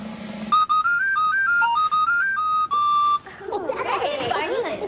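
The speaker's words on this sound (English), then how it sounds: "It's a captain's whistle." A toy captain's whistle blown as a melodic tune, a run of clear sustained pitched notes stepping up and down for about three seconds, followed by a burst of bright noisy clatter.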